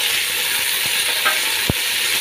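Tomatoes and brinjal frying in oil in a pan, with a constant hiss of sizzling and a few soft spoon clicks and scrapes as the mixture is stirred.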